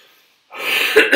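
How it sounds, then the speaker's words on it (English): A single harsh cough bursts out after a brief silence, followed by a second short hack, close to the microphone. "In between coughing."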